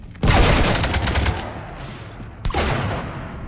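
Dense rapid gunfire rakes a ship in the Mass Effect video game, a loud sustained burst that fades, then a second volley erupts near the end.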